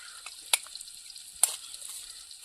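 Eggs frying in hot oil for egg fried rice, a steady soft sizzle with two sharp crackling pops as they hit the pan, no voices.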